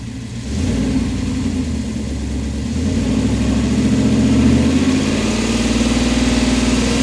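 A 1997 Dodge Ram pickup's 5.9 V8 engine idles, then revs up and holds a steady, throaty drone that swells slightly louder, close by with no voices.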